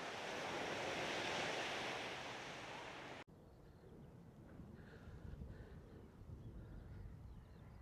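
Surf washing ashore at Freshwater Bay on the Isle of Wight, a faint continuous wash of waves with wind rumble, briefly cut off, then quieter shoreline ambience with a distant bird call.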